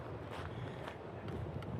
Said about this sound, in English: So that's where all the wind is coming from